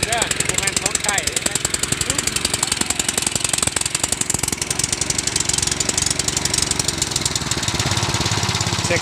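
A sawmill engine runs steadily at a farm hut near a village, a continuous mechanical drone with rapid regular pulsing throughout, close and loud, with voices talking over it.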